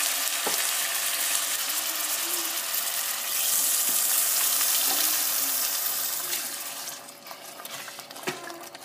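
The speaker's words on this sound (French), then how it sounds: "Je vais ajouter un petit peu d'eau dans le coulis de tomate et l'additionner au reste" Tomato coulis thinned with water is poured into a pan of Bolognese, setting off a loud, steady sizzle and frying hiss that eases off toward the end, with a few stirring clinks.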